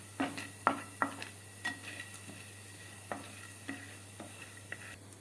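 Chana dal dry roasting in a pan, with a faint continuous hiss under a series of light scraping stirs and soft clicks of lentils against metal, spaced irregularly and quiet.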